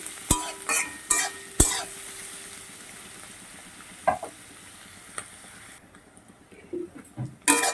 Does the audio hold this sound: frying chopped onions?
yes